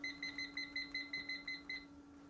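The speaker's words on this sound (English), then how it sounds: "I'm going to set my timer to 10 minutes." A kitchen timer set for steaming buns beeps in a quick, steady series of about ten high electronic chirps, then falls silent; no voices.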